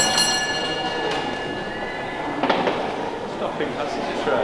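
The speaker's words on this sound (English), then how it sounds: "It's a stopping passenger train" A stopping passenger train rolls steadily nearby with broadband rumble and rail noise, faint metallic squeals and clatter rising briefly midway.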